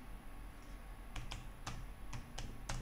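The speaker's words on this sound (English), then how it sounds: "First way is to provide a keyboard interrupt. So with Ctrl C, I'm going to run it again." Keys on a computer keyboard are pressed in a handful of quiet, sharp clicks spaced irregularly, as when entering Ctrl C to interrupt a running Docker process, with no talking.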